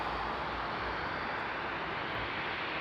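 An ANA airliner at Frankfurt Airport produces a loud, steady jet engine roar, a broad hissing wash with low rumble that stays constant and close throughout.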